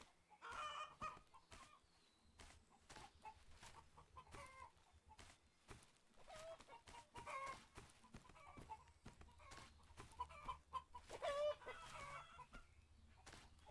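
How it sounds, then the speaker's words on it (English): Chickens cluck in the video game Survive The Nights, with repeated short clucks coming and going against a quiet, steady background. "Oh, I hear a chicken."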